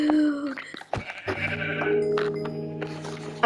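A sheep bleats in a video game, a wavering, nasal cry heard up close among short in-game clicks and effects, with no talk over it.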